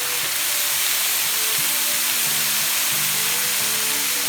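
Steady, dense hiss of steam rising off vegetables cooking on a hot cast iron griddle, close and continuous, with faint tool knocks underneath.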